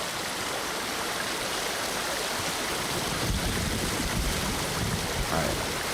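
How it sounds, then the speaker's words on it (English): A river rushes loudly and continuously in the video game Ghost of Tsushima, a dense, steady roar of flowing water that fills the whole stretch without pause. "this water is incredibly loud"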